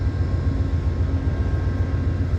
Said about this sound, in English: And that's the train I'm on.